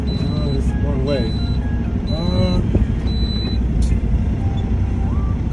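A Werner delivery truck on a Dollar Tree route in Riverton, Utah rumbles low as it turns a corner, with repeated short beeping tones and someone talking over the engine.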